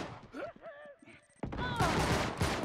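Gunfire in the Uncharted 3 multiplayer game, a sudden burst of loud shots following quieter game sounds and a brief voice.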